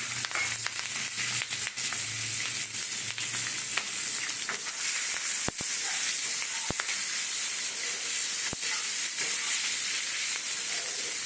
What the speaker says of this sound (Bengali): এবারে ক্যাপসিকাম আর পেঁয়াজটাকে দিয়ে দেবো